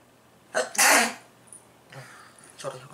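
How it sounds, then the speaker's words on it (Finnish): A single sharp sneeze bursts out close to the microphone, loud and brief, followed by a little quiet speech from someone talking on a casual Finnish radio-style show. "Sori, aivastus."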